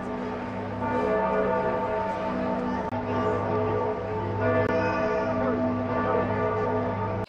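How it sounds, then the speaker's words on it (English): Large church bells of Florence ringing together in a sustained, layered peal, rich and resonant, with overlapping tones continuing throughout. "getting a chance to hear some amazing"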